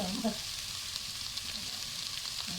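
Shallots and onions with curry leaves sizzle steadily in hot oil while being stirred for a fish masala, a close, continuous frying hiss with a few soft knocks.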